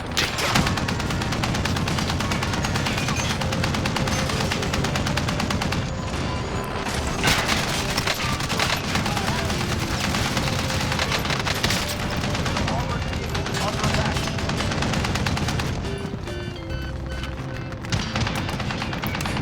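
A vehicle-mounted big gun on an armored truck fires in Warzone, dense heavy booms and bursts running almost continuously for the length of the clip amid loud battle noise.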